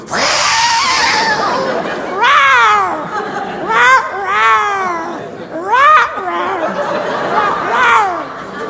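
A comedian on stage imitates a cat with a series of drawn-out, wavering meows, roughly four loud yowls spaced a couple of seconds apart in a performance hall.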